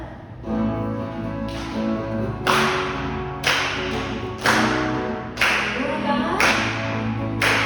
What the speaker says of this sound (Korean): 박수 치면서 찬양하겠습니다